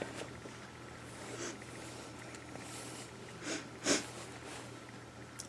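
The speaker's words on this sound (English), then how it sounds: "I'm sniffing. Allergies are a nightmare." A person with allergies sniffs a few times while working on a sewing project, soft nasal intakes, one sharper and louder near the end, over a quiet room hum.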